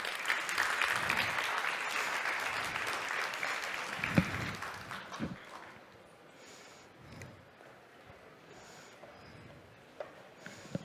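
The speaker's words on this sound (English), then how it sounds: "Round of applause." Applause from an audience greeting panelists as they take the stage, a dense sustained clapping that fades after about five seconds into scattered claps and quiet room noise.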